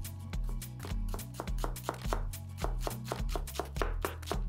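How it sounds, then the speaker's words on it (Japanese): A knife slices a Senju leek, a large Tokyo long green onion, diagonally on a cutting board, giving a brisk run of about twenty evenly spaced chops, close and clear with no talking. "斜めに切っていきますね"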